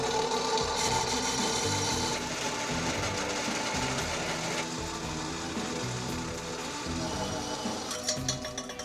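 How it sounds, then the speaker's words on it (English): A metal lathe in a garage turns and cuts a steel piece to length, giving a steady mechanical whir with scraping, chattering cutting noise and shifting tones, close and continuous throughout. "Put this back in the lathe and cut my 3 3/8 inches off."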